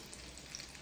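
Snacks frying in oil over high heat, a faint steady sizzle and crackle with tiny scattered pops, close and continuous with no talking.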